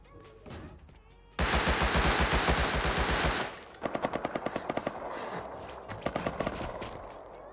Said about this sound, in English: I'm hearing every gunshot now.